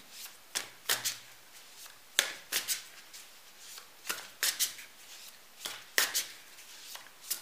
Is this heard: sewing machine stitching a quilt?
no